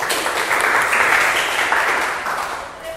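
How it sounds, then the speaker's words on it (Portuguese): Classroom applause for a student who answered a mental math question correctly: a burst of lively, fairly close clapping from a group, steady for a few seconds and then easing slightly toward the end. "Palmas para ela"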